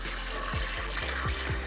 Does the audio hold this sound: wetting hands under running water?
yes